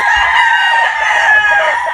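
A game-fowl cock of the Tilaok line crows loudly and close, one long sustained call filling the whole stretch with no talk over it.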